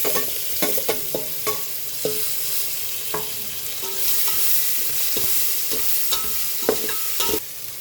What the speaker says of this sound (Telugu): ఇప్పుడు టమాటాలు వేసుకుందాము